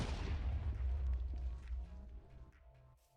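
A tank shell strikes the side armor of a T-72 in MCHeli-Overdrive, a single heavy boom with a rumbling low tail that fades out over a few seconds.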